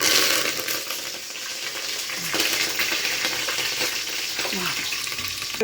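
Onions and curry leaves crackle and sizzle in hot oil for a tempering in a pot of pappu charu, a steady loud fry with a few stirring scrapes.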